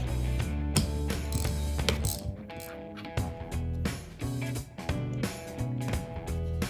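A ratchet works on tight Phillips head screws holding the wiper motor of a Porsche 944. Rapid metallic clicks and ratcheting bursts come in uneven spurts close by.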